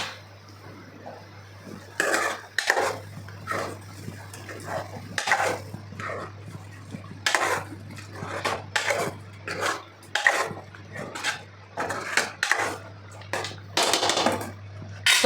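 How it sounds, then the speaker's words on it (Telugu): Gongura chicken fry stirred with a utensil in a pan after coriander powder goes in, giving repeated scraping and clinking strokes at close range over a steady low hum, with brief speech in places. "చక్కగా కలుపుకుందాం దీన్ని."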